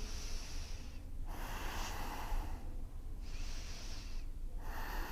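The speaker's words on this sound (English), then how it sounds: "I breathe very deeply." Deep, slow breaths taken while holding a yoga shoulder stand: steady, close airy inhales and exhales in long, even cycles, with brief quiet gaps between them.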